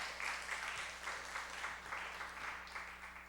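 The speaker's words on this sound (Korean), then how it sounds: "우리 다시 한번 격려의 박수를." A church congregation claps in encouragement during a Sunday service, a faint, even patter of many hands that stays steady throughout.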